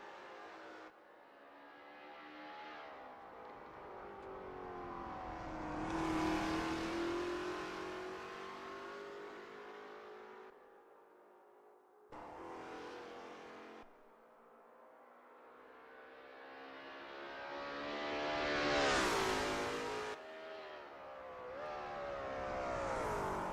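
A Lola T70 MkII Spyder race car in a racing game at the Österreichring, its engine roaring and revving hard through corners, pitch climbing and falling with gear shifts and brief lifts, loud and close, with no talk.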